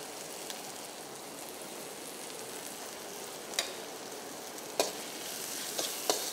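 Tomatoes sauté for vada curry in a pan, a steady soft sizzle with a few sharp clicks of stirring near the end, moderately quiet and without talk.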